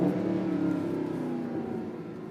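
A Mercedes SLS AMG accelerates on a short stretch of road, its engine giving a loud, steady droning growl with a rising tone, heard from close by with no talk.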